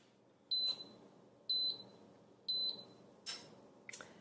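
A kitchen timer beeps three times at steady one-second intervals, sharp and high, while cooking on a Cuisinart Griddler Elite, followed by a couple of soft clatters.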